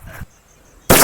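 A paper Diwali firecracker goes off with a single loud, sharp burst at the end, after a brief softer pop and a near-silent pause.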